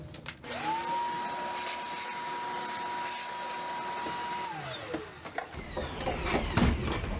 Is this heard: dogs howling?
no